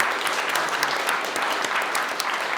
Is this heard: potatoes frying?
no